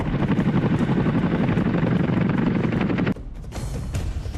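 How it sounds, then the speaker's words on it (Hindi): A helicopter's rotor thumps loudly and steadily overhead during an army exercise in Arunachal Pradesh, then the sound cuts to a quieter, lighter whirring in the final second. "आसमान में मंडराते हेलीकॉप्टर"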